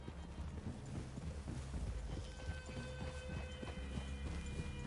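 Several horses walk in Red Dead Redemption 2, their hooves clip-clopping in a steady, uneven rhythm close by, with faint ambient game sound beneath.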